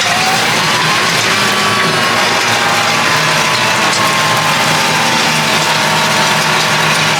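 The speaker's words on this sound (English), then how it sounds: "put the cultivator in." A tractor-mounted potato cultivator is lowered into a potato row and set working, under a steady, loud engine drone with broad mechanical rumble throughout and no talking.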